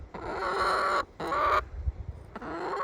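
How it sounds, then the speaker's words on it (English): Chickens clucking close by, loud drawn-out squawking calls broken by a couple of brief pauses. "But yeah, here's the chickens."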